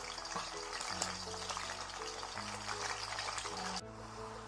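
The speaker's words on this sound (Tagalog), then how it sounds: "Lutuin lang natin siya guys ha, sa mantika. Hanggat sa lumambot yung karne ng baka." Beef pieces frying in cooking oil in a pan, a steady close sizzle and crackle running throughout with a low hum beneath, no talking.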